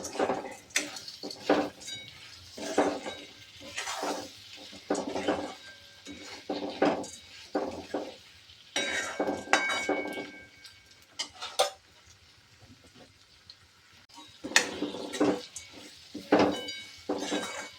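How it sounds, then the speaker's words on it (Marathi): Moong dal vadi and tomato being sautéed in masala in a pan, a spatula repeatedly scraping and tapping the metal in irregular bursts with short pauses, close and moderately loud, no speech. "त्यामध्ये टाकूया टमाटर, त्यामध्ये टाकूया वड्या, छान परतून घ्यायच्या."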